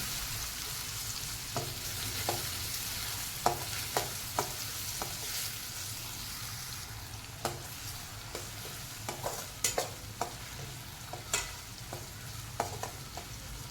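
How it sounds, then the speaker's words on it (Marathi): Onion sautéing in oil with mustard seeds, asafoetida and green chilli: a steady hiss of frying with regular sharp spatula taps and scrapes against the pan, close and unaccompanied by talk. "फोडणी झाली की मग आपण कांदा परतून घेणार आहोत"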